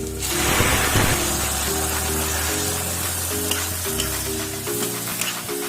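Mustard paste for a fish curry sizzling and frying in a pan, a steady hiss with bubbling crackle, close and continuous, with a low electrical hum underneath.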